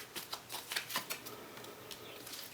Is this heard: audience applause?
no